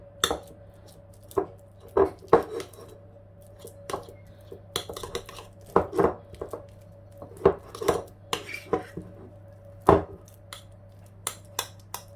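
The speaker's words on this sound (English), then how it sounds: "I get a pinch of basil, some garlic and just some butter, and then mix it all together." Basil, garlic and butter being mixed for garlic bread, with sharp, irregular clinks and taps of a utensil against a dish, close and distinct over a low steady hum.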